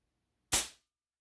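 A Hatsan AirMax .22 air rifle fires a slug in one sharp, short crack that fades quickly into silence.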